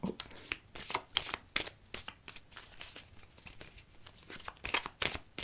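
Oracle cards shuffled for a reading: a series of quick, papery riffling bursts in an irregular rhythm, close and fairly soft, with no one talking over them.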